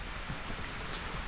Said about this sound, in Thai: ฝนตก แห้งเลยพี่น้อง